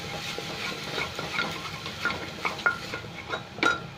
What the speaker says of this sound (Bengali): এই মশলাটা একটু ভালো করে ভাজবো,